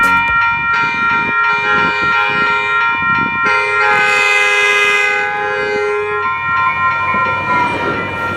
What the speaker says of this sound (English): How about another front runner? This time going southbound